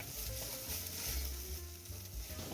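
Minced garlic, about a tablespoon, sautéing in a pan for a dairy-free vegan tomato soup, giving a steady close sizzle and crackle with soft stirring scrapes throughout, no voices.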